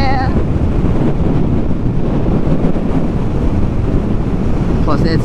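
Loud, gusty wind buffets the microphone throughout, a constant roaring rush with a brief whistle near the end.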